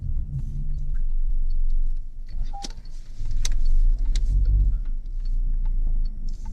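A Peugeot 508 PureTech 130 with a three-cylinder engine maneuvers at low speed, a close low idle and rumble swelling and easing, with scattered clicks and ticks from inside the cabin.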